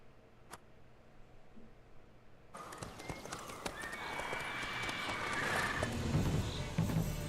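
Geralt's horse Roach from The Witcher III trotting, with rhythmic hoof clip-clops and a whinny rising out of quiet game ambience, growing fuller and closer over several seconds.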